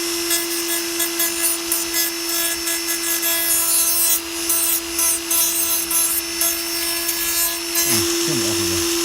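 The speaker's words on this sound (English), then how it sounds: "Trim it off with a sander" Sander grinding down a rubber grip on a Suzuki Hayabusa Gen2 handlebar, a loud close continuous abrasive rasp over a steady motor whine, pulsing slightly as the tool is worked back and forth.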